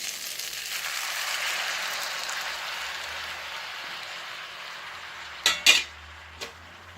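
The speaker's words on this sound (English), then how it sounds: "Next we're going to add the vegetables that we had stir fried." Stir-fried vegetables tossed into noodles in a pan for a shrimp and asparagus stir fry, giving a steady hiss of frying, then a few sharp clinks of utensil against the pan near the end.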